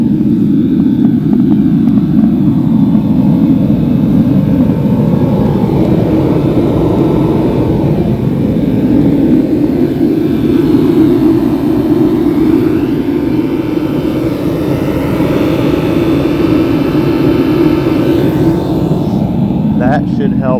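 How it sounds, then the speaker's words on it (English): In an orchard at night, a diesel electric heater roars loud and close with a steady low rumble and whoosh, unbroken throughout, like a running engine or burner. "diesel electric heater."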